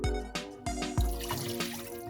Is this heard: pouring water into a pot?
yes